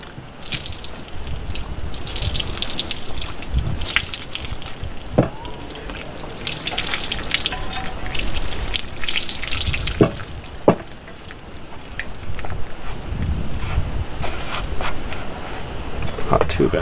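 Water is poured from a pan onto a modern cowboy hat's sweatband area during reshaping, a steady close splashing and trickling wash with a few sharper drips and splats, while someone talks.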